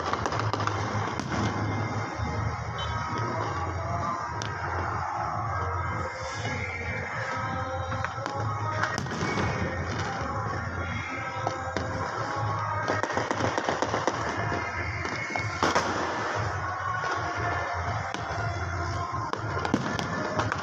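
Celebratory gunfire and fireworks on Pakistan Independence Day: dense, continuous crackling and popping bangs from many directions, some near and some distant, over a steady low rumble.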